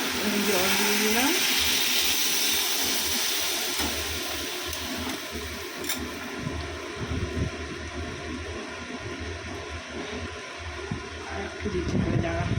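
Water is poured into a pan of paneer curry, giving a rushing, bubbling gush that settles into a lower simmering wash, with a voice talking over it.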